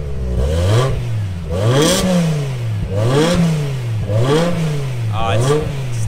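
A stock BMW M6 V10 is revved repeatedly, five loud blips rising and falling in quick succession close to the listener.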